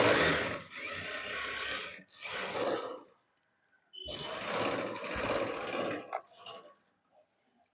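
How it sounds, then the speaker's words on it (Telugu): A sewing machine stitches the second sleeve of a dress, running in several short bursts with brief pauses between, fairly close and heard alone. "ఫస్ట్ హ్యాండ్ ఎలా స్టిచ్ చేసుకున్నామో సెకండ్ హ్యాండ్ కూడా అక్కడి నుంచి నేను స్టార్ట్ చేస్తున్నాను"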